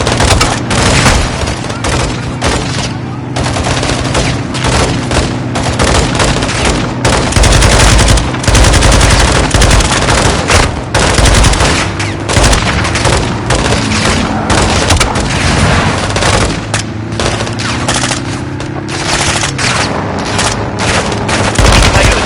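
Dense, continuous machine-gun fire fills a Call of Duty Modern Warfare 2 battle, with rapid bursts layered over heavy booms and explosions. The din stays loud throughout, and voices speak faintly under it.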